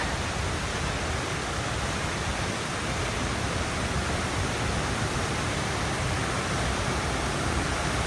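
Waterfall beside Sri Bhimeshwara temple, a steady, unbroken roar of falling water that stays close and loud throughout with no voices.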